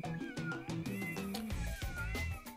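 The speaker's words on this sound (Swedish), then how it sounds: "Mjau, du låter så ledsen när du blir uppäten" A cat meows plaintively as it gets eaten in the video game Tasty Planet 2. A couple of drawn-out, wavering mews rise over busy game music and dense sound effects throughout.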